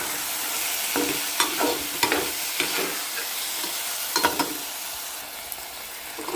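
Chicken fries with turmeric, ground cumin and chilli paste while a spoon stirs it, a continuous close sizzle punctuated by several scraping, clacking strokes against the pan.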